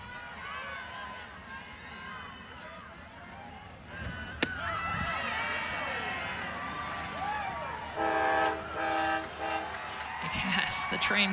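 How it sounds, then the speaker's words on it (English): A train passes beside a college softball ballpark in Knoxville during a Tennessee versus Alabama game, rumbling loudly with squealing wheels and a blast of its horn, under crowd noise and commentary. "the train going by in left field"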